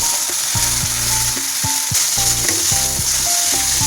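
Chili paste hits hot mustard oil over well-browned onions for a spicy hilsa oil curry. It gives a loud, continuous sizzle, with rhythmic scraping and knocking as a spatula stirs the pan, and no one speaks.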